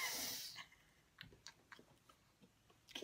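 A person chewing food in their mouth during a mouth-guessing game, soft wet munching and biting sounds in a short irregular series, close and quiet with no talk.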